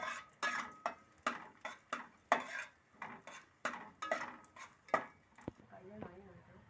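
Cashews and raisins fry in ghee as a spoon stirs them, giving a quiet run of regular clinking taps against the pan about twice a second over a faint sizzle.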